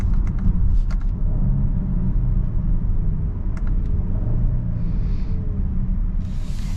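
Genesis GV80 SUV with a 3.5-liter twin-turbo V6 and 8-speed automatic heard from inside while driving, a steady low engine and road rumble with a few faint clicks, no talking.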